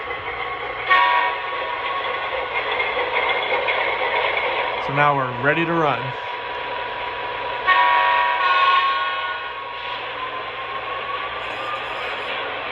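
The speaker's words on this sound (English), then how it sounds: "This will start cueing the chimes for the engine where it says programming trains. We get all the sound effects starting up." A model train locomotive on an NWCR layout plays its engine sound effects, a steady rumble with a warbling horn burst and chime tones, while a person speaks over it.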